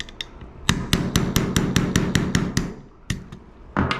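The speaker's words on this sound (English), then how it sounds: "hammer just makes it a little bit easier to tap it in" A hammer taps a punch to drive a trigger pin into a Smith & Wesson M&P pistol during a Timney Alpha trigger install, giving about a dozen sharp metallic taps in a steady rhythm, then a pause and a few more, close up.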